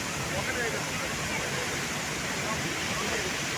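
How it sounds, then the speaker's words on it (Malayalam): Constant, dense rush of Athirappilly waterfall in Kerala, loud and unbroken for the whole stretch. "വലിയ വെള്ളച്ചാട്ടം പോലെ ഇത് തോന്നും"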